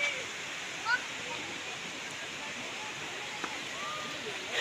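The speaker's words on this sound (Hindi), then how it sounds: "आपको दूर से दिख रहा होगा कैसे पानी गिर रहा है" The Kakolat waterfall in Nawada, Bihar, gives off a steady, broad rushing roar. Water pours continuously from a distance, with a few faint bumps over the even wash of sound.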